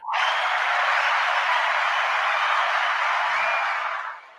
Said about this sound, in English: Let me give Chris applause